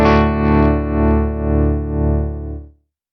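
Distorted electric guitar chord through a Morgan Amps Suite tremolo in sync mode at 120 BPM, its volume pulsing in about five even swells before the sound stops.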